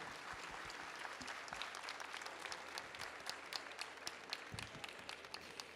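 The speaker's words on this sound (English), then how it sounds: "Perhaps you can give them a great round of applause to end this session." A conference audience applauds panelists at the close of an AI session, steady dense clapping filling the whole stretch at moderate volume with a few sharper individual claps standing out.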